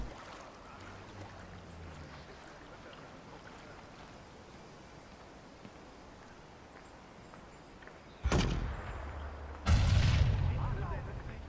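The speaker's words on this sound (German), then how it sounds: "Hier hat irgendjemand mit einem Granatwerfer oder so rumgeschossen." Two loud booming blasts from a grenade launcher in the video game Watch Dogs, one after the other, breaking through steady rushing game background noise.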